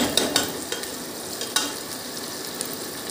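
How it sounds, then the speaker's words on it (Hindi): A green chili and ginger paste fries in a pan for a dal tadka, a steady close sizzle with a few light scraping stirs and taps of a spoon over the continuous frying hiss. "सब्ज़ मिर्च और अदरक का पेस्ट ये भी मैंने इसमें डाल दिया अब इसको अच्छी तरह भून लेना"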